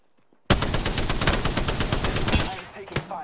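Rapid automatic gunfire in Apex Legends during a ranked solo match, a dense sustained burst starting abruptly after a brief quiet moment, loud and close, tapering near the end.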